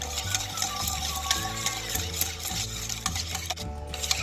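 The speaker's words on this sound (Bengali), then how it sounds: "এটাটা দিয়ে ভালো করে আমি ডিমটাকে ভালো করে গুলাবো" Eggs whisked steadily in a large bowl for a homemade cake batter, a continuous rhythmic beating and stirring that stays busy and close, with no talking.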